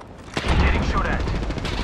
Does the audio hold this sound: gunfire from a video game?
yes